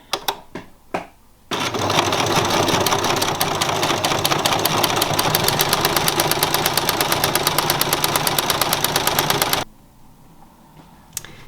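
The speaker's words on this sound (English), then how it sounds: "So sew along the edge here where we've pinned it." A sewing machine stitching along the pinned edge of fabric for a boxy tote bag runs steadily for about eight seconds with a fast, even needle rhythm, close and loud, then stops.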